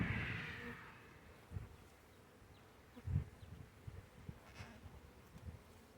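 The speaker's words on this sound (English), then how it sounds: "A lot of bees in here. Very nice swarm." A soft, steady buzzing of a honey bee swarm in a box hums throughout, fairly quiet, with a few low thumps and bumps near the microphone.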